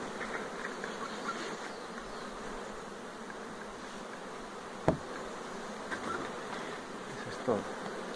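Honeybees hum steadily around an open hive being strengthened with a brood frame, a continuous close drone with a few sharp clicks and knocks from handling the frames, and no talking.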